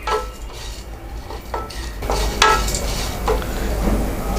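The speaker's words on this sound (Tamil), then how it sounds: "பொன்னிறம் ஆகிற வரைக்கும் நம்ம ரோஸ்ட் பண்ணிக்கலாம்." Lentils roasting in a pan for a Tamil paruppu vengaya thogayal are stirred with a utensil, giving repeated scraping and clinking strokes over a steady low background hiss, loud and close.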